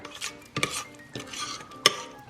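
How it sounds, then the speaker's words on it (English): Pumpkin spice cake batter from a Knott's Berry Farm mix is stirred by hand in a bowl, giving intermittent scrapes and sharp clinks of the utensil against the bowl, close and moderately quiet, with no talking. "just want to stir this. It says specifically stir it by hand"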